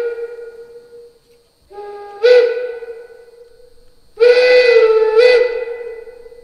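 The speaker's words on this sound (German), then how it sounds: "die nachfolgend zu hörende dB-Neubaupfeife" A model DB class 10 steam locomotive's digital decoder plays a DB new-build whistle in several sustained blasts, a steady tone swelling louder with sharp accented bursts, then cutting off.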